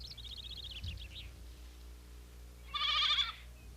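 A goat bleats while being fed, a brief wavering call at the start and a louder bleat near the end, over a quiet background hum.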